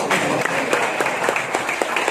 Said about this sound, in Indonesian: Tepuk tangan untuk istrinya Bondan.